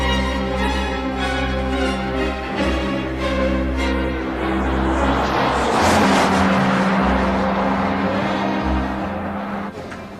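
A Jaguar XJ40 Sovereign car driving, its engine droning steadily at close range and then swelling into a louder rushing pass before easing off again, with no talking over it.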